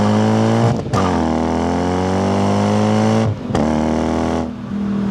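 A Toyota 3UZ V8 in a manual IS300 wagon revs hard with smooth, quick climbs, drops briefly between pulls, then rises again, loud and close with no talk.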